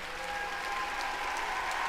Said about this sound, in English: Clap if you understand.